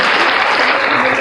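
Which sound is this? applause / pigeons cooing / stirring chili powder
applause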